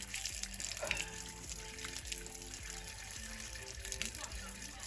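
Tap water runs steadily as mangoes are rinsed under an outdoor faucet, a soft continuous splash with faint clinks and background noise, fairly quiet throughout.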